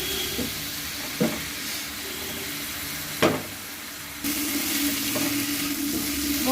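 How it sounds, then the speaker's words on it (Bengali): Spice masala for a rohu fish curry with green banana and potato sizzles steadily in a pan, a continuous frying hiss with a few stirring knocks, growing louder and brighter partway through, with no talking. "মশলাটা আমার কষা হচ্ছে"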